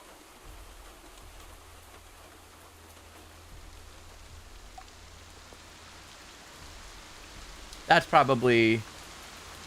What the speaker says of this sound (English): how much is it pouring down rain right now? It's a decent drizzle.